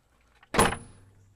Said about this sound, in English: you can hear that door slam